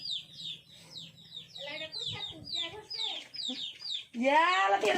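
A hen and her chicks clucking and peeping close by in quick, overlapping calls, ending in a louder, drawn-out squawk.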